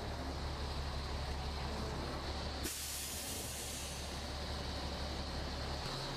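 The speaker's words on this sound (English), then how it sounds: "As you heard, the air brakes are working." Air brakes on a 2003 National 400A truck release a loud, sharp hiss of escaping air partway through, set against a constant idling engine rumble with no speech.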